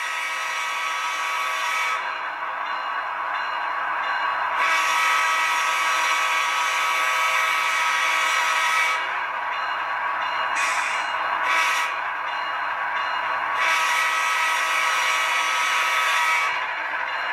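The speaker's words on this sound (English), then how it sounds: "Tell you what, that horn sounds really, really good" ESU LokSound horn on an HO scale GE ES44AC model locomotive, a steady multi-chime sustained tone sounding in several long blasts with brief gaps between them, loud and close, with no talking.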